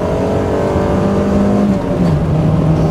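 A first-generation Mazda MX-5 engine is revved hard and held at a loud, steady buzzing drone, then dips in pitch briefly before holding again. The engine is heard up close with no talking.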